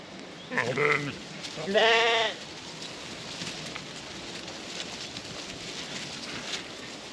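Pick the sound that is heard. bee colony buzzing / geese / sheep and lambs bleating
sheep and lambs bleating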